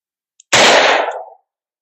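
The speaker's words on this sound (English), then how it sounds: "now we're going to test the Grizzly 355 grain plus P plus 44 Magnum." A single close, loud gunshot from a .44 Magnum firing a Grizzly 355-grain +P+ round during a clay and sand penetration test, with a sharp crack and a short decaying tail.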